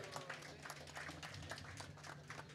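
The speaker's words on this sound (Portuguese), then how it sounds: "eu quero uma salva de palmas especialmente pro meu amigo Igor" An audience claps and applauds steadily for the drummer Igor at a live tribute show by a band in a gastrobar, a dense patter of hands with a low hum underneath.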